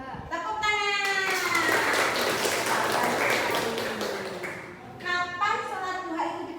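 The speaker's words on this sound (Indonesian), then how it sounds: "Tepuk tangan." Classroom children clap in quick rhythmic bursts while their voices chant and sing along, the clapping blending into loud group vocalizing.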